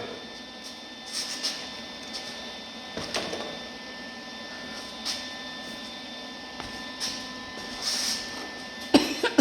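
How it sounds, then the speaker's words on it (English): Repair welds are laid on a 1948 Chevy truck in short, crackling bursts separated by pauses, all over a steady electrical hum. "Alright, let's weld it up."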